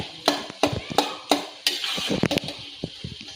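A utensil mashing boiled potatoes scrapes and thumps rhythmically against a pot, several sharp knocks followed by softer squishing scrapes.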